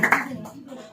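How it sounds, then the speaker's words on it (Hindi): Congregation clapping during praise at a Sunday church service: a couple of sharp hand claps at the start, then fading under a worship leader's voice. "तालियों के साथ praise the Lord, praise Jesus."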